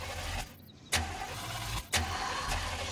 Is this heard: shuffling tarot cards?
no